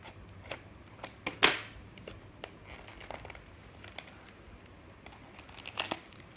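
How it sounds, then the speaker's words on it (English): Crinkling and rustling of packaging as the box of a Teewe 2.0 HDMI streaming device is opened, soft close-up crackles with a few sharper tearing bursts, quiet overall. "Let's open the box and see how the product looks like."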